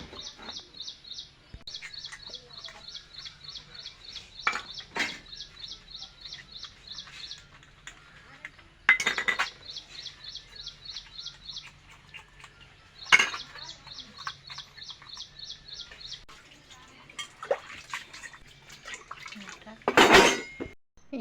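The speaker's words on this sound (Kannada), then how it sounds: "ಸಂಜೆಗೆ ತಿಕ್ಕಿಲ್ಲ ಅಂತ ಇಷ್ಟೊಂದು ಪಾತ್ರೆ ಅದಾವ." Dishes and metal vessels being washed and scrubbed at home, with repeated clattering of pots and cutlery and scraping strokes in bursts, some louder clanks standing out, close and clear with no talk.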